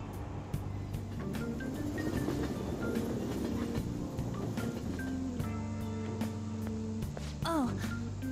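A train from the video game Persona 5 rolls steadily along the rails with a continuous low rumble and occasional clicks, ending in a brief rising squeal, heard alone without talk.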